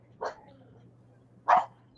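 A dog barks twice, about a second and a quarter apart: two short, sharp barks close by over a low background hum, with no one talking.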